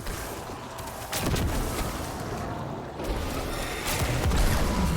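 Grenade launcher explosions in the sci-fi shooter Destiny 2 (The Strand, Garden) come as a few heavy, booming bursts roughly a second or two apart over a constant rumbling combat din.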